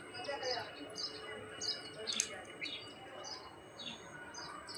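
Birds chirp outdoors in the evening around a green garden with coconut trees, repeated short tweets sounding at a moderate distance over a low, steady background hum.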